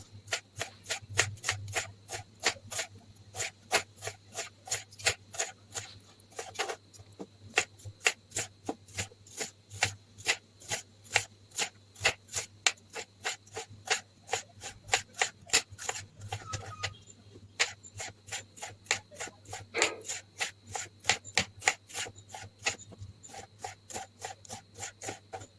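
Onions sliced into rings with a knife on a board, a fast, steady run of crisp chopping taps repeating evenly and close for the whole stretch, with no talking.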